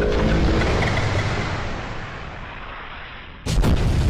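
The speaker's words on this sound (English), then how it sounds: "Yep, that was a bomb." A bomb blast in a Skibidi Toilet animated episode: a loud, rumbling explosion fading over about three seconds, followed by a second sharp, heavy boom.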